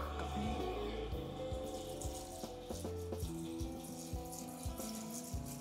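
An iSpring CRO2000 commercial reverse-osmosis water filtration system running its auto flush, with a steady rush of water and a droning pump hum that shifts pitch in steps, fairly quiet and with no voices.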